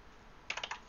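Four quick keystrokes on a computer keyboard while an IP address is typed, crisp close clicks after a near-silent pause, with no voice.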